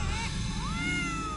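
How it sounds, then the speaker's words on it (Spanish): Kittens in an animated CatNap cartoon mew, a rising, drawn-out meow sliding upward in pitch, heard over a steady background bed of music and noise. "¡Suena como mis gatitos!"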